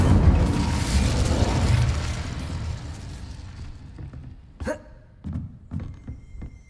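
An Incendio fire spell in Hogwarts Legacy erupts in a loud, roaring burst that fades over a few seconds, followed by several sharp, short thuds and pops.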